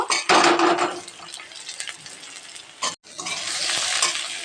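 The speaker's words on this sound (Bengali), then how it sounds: "আমি এবার এই তেলে বেগুনটা দিয়ে দেব বেগুনটাও ভেজে নেব" Eggplant hisses loudly as it hits hot oil, followed by steady sizzling, a brief stir, and a renewed burst of frying.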